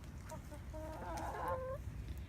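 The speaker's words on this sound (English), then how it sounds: "Everybody wants to see the new chickens." Chickens, a pair of newly arrived hens, cluck and squawk close by in a short run of calls over a steady low background hum, with no talk.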